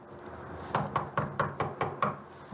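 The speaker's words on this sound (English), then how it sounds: "We're going to head over there and knock on the door" A police officer raps on a house door seven times in an even, firm rhythm, the knocks sounding close and solid against a quiet background.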